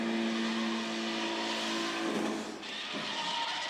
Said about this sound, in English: What's Larry doing on Mac's motorcycle?